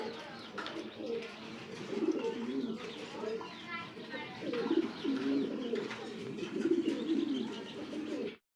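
Roman gal pigeons coo in repeated low, throaty rolls at a pigeon farm, near and fairly loud, with other birds chirping faintly and a person talking over the calls.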